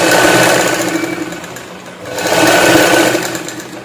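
A sewing machine runs close and loud, double stitching a princess-cut blouse seam at the shoulder joint in two steady bursts with a brief slowdown between them.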